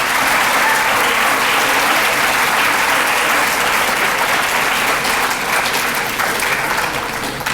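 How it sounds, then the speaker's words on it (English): An audience claps loudly and steadily for several seconds, then begins to taper off slightly toward the end. "If we could give them a round of applause"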